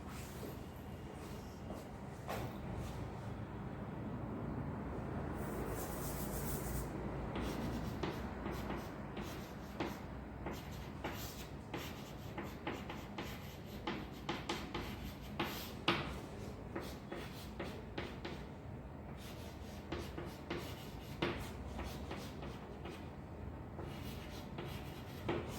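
A prism formula is written on a board with a long run of faint, close scratchy strokes and taps in an irregular rhythm, with brief pauses between marks.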